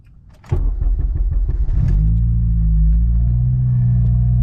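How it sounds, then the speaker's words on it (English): A Honda Civic Si engine cold-starts, cranking briefly, then catches and settles into a loud, steady idle with a deep rumble, close by and without any voices. "Cold starts."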